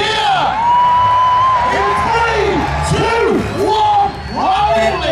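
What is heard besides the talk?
crowd cheering at monster truck show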